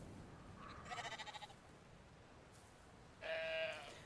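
A sheep in the video game Brothers: A Tale of Two Sons gives two faint, wavering bleats, the first quavering and the second shorter and steadier, over a quiet ambient background.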